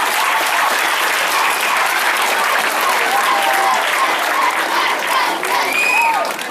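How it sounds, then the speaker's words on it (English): A room of children claps together for themselves, steady and loud, with lively cheering voices mixed into the dense applause. "Clap for yourself."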